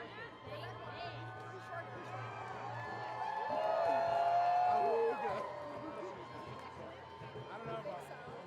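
Crowd at a live fighting event cheering and whooping for their champion, a broad roar of voices that swells in the middle and then eases, with a sustained shout rising above the din.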